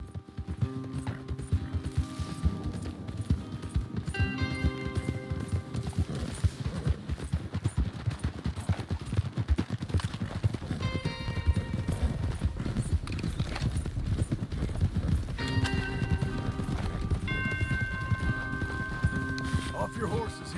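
Horses gallop steadily in Red Dead Redemption 2, a continuous dense clip-clop of hooves across a ranch trail, with music tones and people talking on top.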